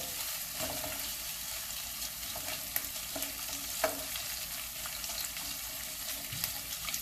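Pork sizzling in a wok while it is stirred, with a steady, fairly quiet frying hiss running throughout and a few soft clinks and scrapes mixed in.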